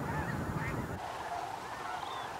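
Sandhill cranes and geese call at Bosque del Apache on the Rio Grande flyway, a steady wash of distant honking and trumpeting from a large flock, continuous and fairly faint.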